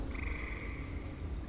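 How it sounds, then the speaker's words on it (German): A frog croaks in the fantasy video game The Elder Scrolls Online, a steady drawn-out call that runs for over a second, close and clear against a low ambient game background. "Wieso sind hier so viele Frösche?"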